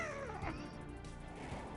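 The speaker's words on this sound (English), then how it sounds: "Whoa, somebody's got a loud kitty cat." A loud house cat lets out a drawn, wavering meow up close, one long rising-and-falling cry that fills the moment with little else around it.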